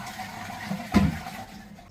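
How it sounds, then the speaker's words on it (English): Toilet with a double push button flush mechanism, flushed with an improvised tool while the cistern sits open: a short, low whoosh of water rising near the middle of the clip, with a faint watery hiss before and after, and no talk. "now you flush the toilet"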